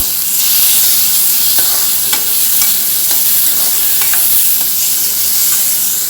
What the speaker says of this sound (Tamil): தக்காளி சேர்த்து எல்லாத்தையும் நல்லா மிக்ஸ் பண்ணிக்கோங்க